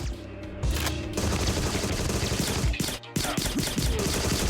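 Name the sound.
machine gun firing in the video game Agent 64: Spies Never Die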